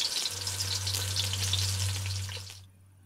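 Mongolian beef with green onions stir-frying in a hot pan, a loud close sizzle and crackle with stirring under a steady low hum, cutting off abruptly near the end.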